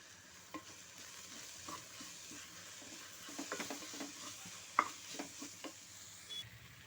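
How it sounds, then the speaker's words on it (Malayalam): Onion and tomato are sautéed in a pan for a Kerala-style beef dish: a faint, steady sizzle runs throughout, punctuated by scattered scraping clicks of stirring, with no voices. "ഇതൊന്ന് നന്നായിട്ട് വഴറ്റി കൊടുക്കാം"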